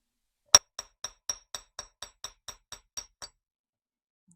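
Copper wire is hammered flat for handmade earrings: about eleven sharp metallic taps in a quick, even rhythm, the first strike loudest, then silence.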